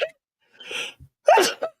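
A person sneezes, a sharp sudden burst preceded by a quick indrawn breath, close and loud against silence.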